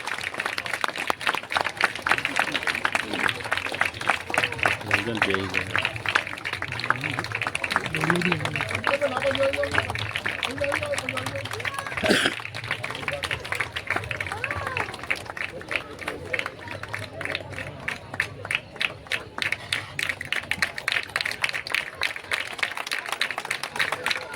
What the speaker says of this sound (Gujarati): જોરદાર તાળીઓના ગુંજથી આપણે બાપુનું સ્વાગત કરીશું